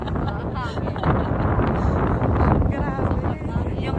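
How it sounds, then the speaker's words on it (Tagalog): Strong gusts of wind buffet the microphone, a steady roaring rush with a voice speaking underneath, at the Songdo cable car in Busan. "Hangin naman pala dito."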